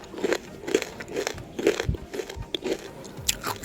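Crunchy basreng snack made from flour, fish-free, bitten and chewed, a steady series of crisp close crunches with no talk.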